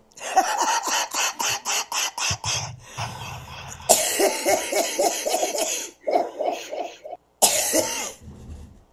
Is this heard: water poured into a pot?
no